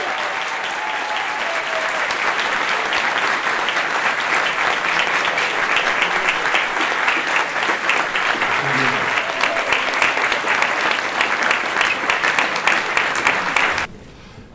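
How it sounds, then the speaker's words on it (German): Loud, sustained applause fills a hall as a science slam winner is honoured, with a dense and even roar of many hands that cuts off abruptly at the end. "Einen ganz tosenden Applaus für den Sieger des Aachener ChemSlam 2019"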